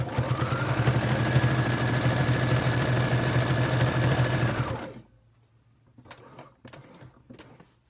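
A sewing machine stitching a baby blanket whirs in one steady, close, rapid run for about five seconds, then stops, followed by faint handling and rustling of fabric.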